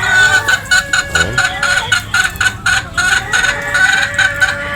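Young possum pullets at a game farm, hens clucking and squawking close by in loud, repeated bursts, with a rooster-like crow mixed in among the flock.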